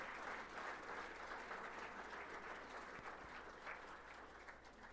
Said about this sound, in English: So let's give our wrestlers a big round of applause.